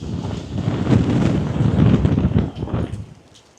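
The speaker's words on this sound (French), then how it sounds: "Il y a du vent, la vache." Gusty wind in Almería, Spain buffets the microphone in a steady low rumble, with some faint clatter underneath; no speech.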